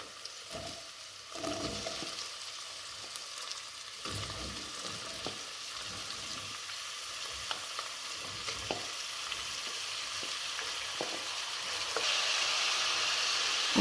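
Asparagus sizzles and crackles steadily in a hot pan for risotto, with occasional scraping from stirring and a growing hiss toward the end.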